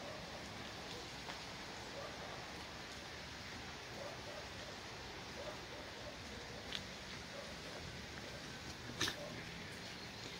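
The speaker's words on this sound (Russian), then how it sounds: "Идет мелкий такой дождик." Light rain falls outdoors in Odessa, a faint, steady, even patter with the odd soft tap and no voices.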